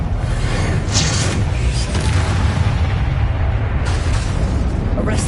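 The Bombarda explosion spell in Hogwarts Legacy goes off as a loud, deep, rumbling blast with crackling debris, filling the whole moment with dense booming noise.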